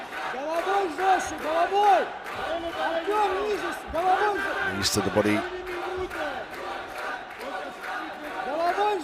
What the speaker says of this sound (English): Hear the chants from the crowd,